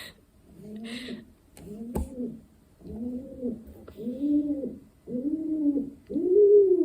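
A young pigeon coos close by in a run of six soft, repeated bubbling calls, each about a second long, with brief pauses between them and no talking.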